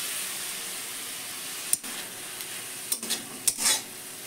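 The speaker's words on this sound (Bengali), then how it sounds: "তারপরে আমি নেড়ে নেড়ে ভেজে নেব" Gime greens frying in a pan over low gas with salt, a soft steady hiss with a few sharp scrapes and knocks of stirring near the end, quiet and close with no voices.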